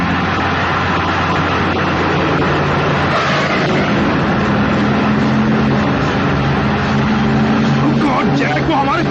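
A car engine roars loud and steady throughout a high-speed chase, with constant road and wind rush and no pauses.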